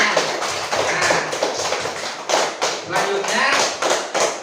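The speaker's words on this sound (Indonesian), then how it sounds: "Tepuk tangan untuk semua yang memberikan pertanyaan." A school class applauding in a classroom, uneven bursts of nearby hand claps that rise and fall in several waves, with voices talking over and between them.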